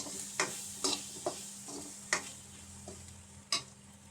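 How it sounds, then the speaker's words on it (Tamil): A spatula scrapes and taps against a pan at irregular intervals while coriander, cumin and sambar powder sizzle softly on low heat, close up and fairly quiet. "சிம்மில் வச்சு வதக்குவோம்."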